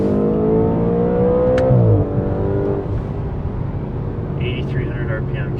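2015 Audi RS5 with a 4.2-liter V8 revving hard toward 8,300 RPM, a rising high-pitched wail that peaks and drops away as the throttle lifts, heard loudly from inside the cabin.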